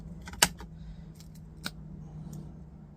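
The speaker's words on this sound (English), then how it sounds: "Just use my snips for these ones" Snips cutting through plastic and metal parts of a scrapped Dell docking station, giving one sharp loud snap followed by a second softer clip, with faint handling clicks over a low steady hum.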